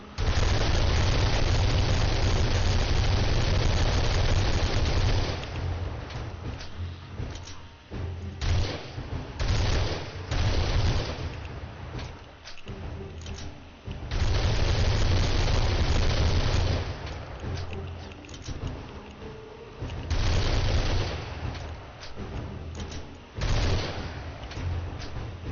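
Bursts of rapid automatic gunfire from a favorite weapon in the zombie survival game 7 Days To Die, loud repeated volleys separated by short pauses and quieter stretches across the whole span, with no talk.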